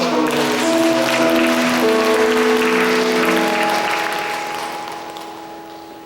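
Church congregation applauding at a young adults' worship service, a dense wash of clapping under sustained organ or keyboard tones, fading gradually toward the end.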